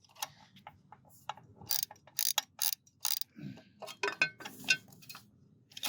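A hand ratchet tightens a bolt during a test fitment, with quick bursts of sharp clicking pawl ticks in uneven strokes, close and clear with short pauses between.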